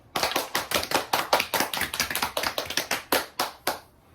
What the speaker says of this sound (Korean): 선배님께 박수